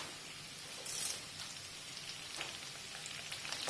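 Small onions and curry leaves sauté in a pan with a faint, steady crackling sizzle that holds evenly throughout, quiet and without speech.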